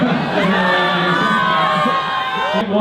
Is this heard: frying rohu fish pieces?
no